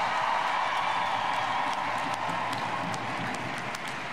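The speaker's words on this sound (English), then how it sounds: "let's just give them all a round of applause" A crowd at a 2022 women's soccer championship celebration applauds the players with steady, somewhat distant clapping and occasional whoops and cheers, without talk.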